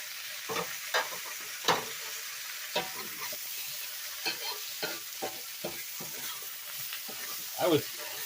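Black bean sauce cooking in hot oil for a Cantonese stir-fry of flank steak, beef, chicken and zucchini, with a steady low sizzle broken by intermittent scraping stirs and clatter, mostly without talk.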